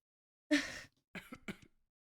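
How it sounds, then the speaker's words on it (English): One person gives a short, quiet throat-clearing, then after a brief pause two softer coughs follow, close by in a silent room. "Or just coughing."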